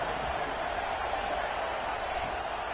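Football stadium crowd cheering on the defense on third down, a steady dense roar of voices and applause filling the whole moment without pause.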